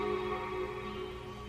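A robotic, synthetic vocal sound made with a software vocoder effect, holding steady buzzing harmonic tones for about a second and a half, fairly loud and continuous with no plain speech.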